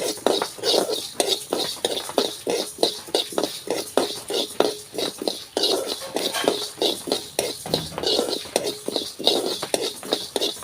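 Raw rice dry-roasting in a pan is stirred in a quick, steady rhythm, with a spoon scraping and clinking against the metal over and over and a faint crackle underneath.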